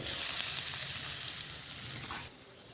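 Potatoes dropped into hot oil with cumin tempering, garlic and chopped tomato for a bhola fish curry, giving a loud, close, continuous hiss and sizzle that eases slightly near the end, with no talk.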